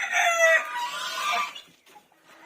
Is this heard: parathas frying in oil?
no